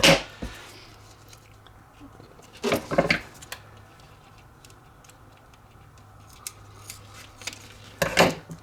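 Scissors cutting a paper template for a helmet part: a few short, crisp snipping bursts spaced several seconds apart over a quiet room background with a low hum.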